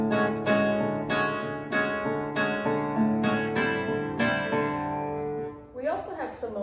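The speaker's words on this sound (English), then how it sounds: "That means for our right hand, we're going to take it close to the bridge, and we're going to get a bright sound by doing this." Classical guitar played ponticello near the bridge, giving a bright, twangy tone: a slow series of plucked notes and chords, each ringing out, with a final strummed flourish.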